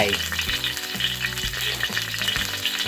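Lard sizzles loudly in a hot pan, a close, steady crackling hiss lasting a few seconds, with no one talking.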